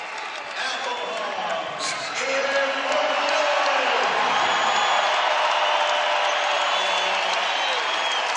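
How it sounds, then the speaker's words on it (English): A basketball crowd at a New Mexico college game cheers and applauds steadily as a player subs out, the roar swelling slightly after a couple of seconds and holding loud throughout. "cheers from the New Mexico crowd"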